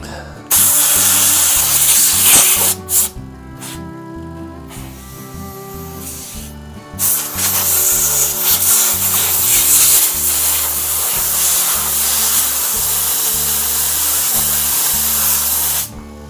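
Compressed air blasts loudly into a cast resin shaving brush handle in long hissing bursts, one short blast, a pause, then a sustained roaring stream, close and alone.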